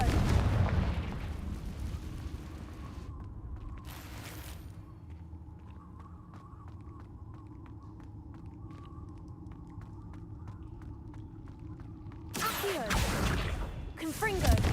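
Confringo fire-spell explosions in the Hogwarts Legacy video game, loud booming blasts at the start and again near the end, with a quieter stretch of crackles and game sounds between.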